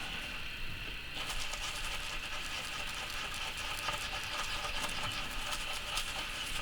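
A toothbrush scrubs a silver coin, giving a steady, close, continuous bristly scratching texture with faint rhythmic strokes throughout, with no voices.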